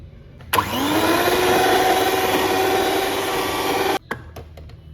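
An electric mixer beats five eggs for a chocolate cake, switching on abruptly into a loud, steady whirring drone that runs for a few seconds before cutting off, followed by faint clatter.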